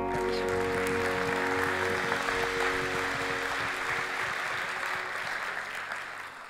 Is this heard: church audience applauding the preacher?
yes